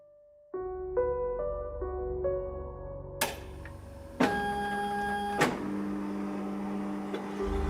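A machine whirs up from silence and runs with a steady mechanical hum, shifting tones and clunks as it cycles through its motions, like a copier at work.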